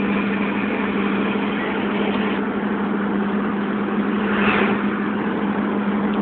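A 1996 Jeep Grand Cherokee 4x4 with a V8 engine idles steadily with a low exhaust rumble and hum, close and constant with no talk.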